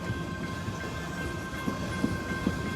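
Norfolk Southern freight train 4422 on the Paducah and Louisville Railway rolls past with a steady rumble and a few rhythmic wheel clacks over the joints, with no voices.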